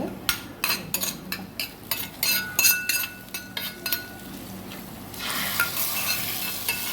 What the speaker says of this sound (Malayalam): കുറച്ച് തേങ്ങ വറുത്തിടണം കേട്ടോ